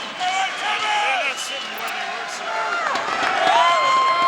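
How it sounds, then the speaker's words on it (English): A sellout crowd fills the downtown Reno Ballroom at a college boxing national championship, a steady roar of cheering and chatter throughout with a whistle rising near the end. "The sellout crowd here at the downtown Reno Ballroom, ready to cheer on Thomas Gennaro"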